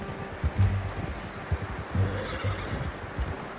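A horse in the video game Red Dead Redemption 2 whinnies and snorts a few times amid faint ambient rustle, with soft hoof clops in between, fairly close.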